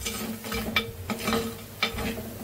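Masala paste is stirred in oil in a clay cooking pot, with a soft continuous sizzle under repeated scraping strokes of a spoon against the pot, close up and without talk.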